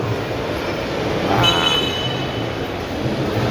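A small toy train rumbles steadily along with a faint high squeal midway, set against the hum of a busy shopping mall in Chinchwad, Pune.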